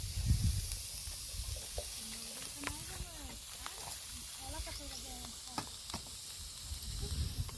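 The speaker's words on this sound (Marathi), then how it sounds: "कांदा त्याच्यामध्ये कढाईमध्ये टाकला" Onion frying in a kadhai gives a faint, low sizzle broken by light clicks and stirring scrapes, with soft outdoor background sounds around it.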